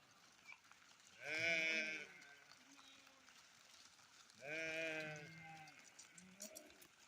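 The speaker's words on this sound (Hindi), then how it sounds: "देखो ये सारी भेड़ हैं, इनकी ऊन काट दी है।" Freshly shorn sheep bleat as a flock passes on a village hillside, two long, loud bleats a few seconds apart with a fainter call after, close by over quiet outdoor background.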